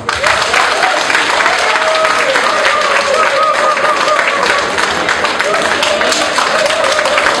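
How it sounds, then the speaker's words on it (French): Applause at a political investiture event for a candidate: a dense, steady crowd clapping throughout, loud and sustained, with voices faintly mixed into the ovation. "Monsieur Bémitian Ouattara, sous acclamation encore, s'il vous plaît."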